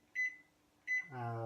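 Two short electronic beeps from a microwave oven's keypad as the power level is set lower, followed by the oven's low hum starting up, close and quiet.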